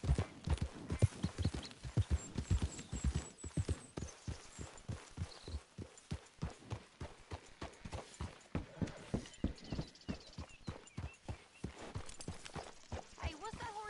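Horse hooves clip-clopping in Red Dead Redemption 2 in the city of Saint Denis, a steady close rhythm of hoofbeats on a hard street running the whole time, with a faint chime in the background.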